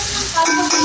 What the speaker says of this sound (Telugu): ఆనియన్స్ కూడా గోల్డెన్ బ్రౌన్ కలర్ వచ్చే వరకు ఫ్రై చేసుకోవాలి